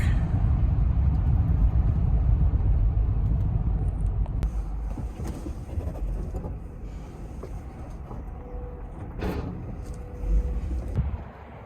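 A Lincoln car on a short drive gives a steady low rumble of engine and road noise that dips slightly midway, with a brief louder swell near the end and no talking.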